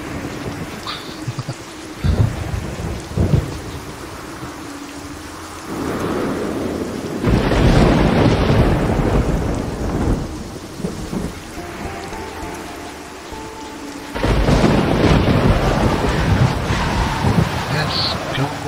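Thunderstorm with rain in the video game Godus: loud rolling thunder bursts swell and fade over a steady hiss of rain and wind, with faint speech in the background.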